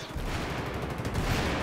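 Rapid automatic gunfire in Battlefield 4 on the Metro map, a dense, loud, continuous spray of shots with no pauses, close and unbroken throughout.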